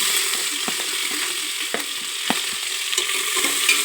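Fennel seeds and onion frying in hot oil, a steady bright sizzle with a handful of sharp clicks and taps from a spoon against the pot scattered throughout.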